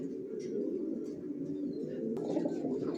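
Pied racer pigeons, a tagged pair, giving soft repeated low coos at close range over a steady murmur of background noise.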